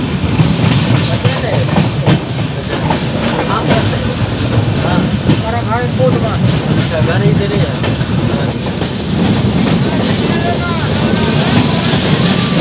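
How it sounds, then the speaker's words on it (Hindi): The Pawan Express train pulls out of Khajauli railway station, a loud steady rumble with clickety-clack of wagons, heard from on board while a person speaks briefly over it. "पवन एक्सप्रेस की अपनी ट्रेन निकल चुकी खजौली रेलवे स्टेशन से"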